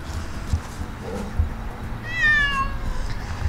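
A cat meows once outdoors on grass, a clear rising-and-falling call partway through, set against low ambient rumble and faint background movement.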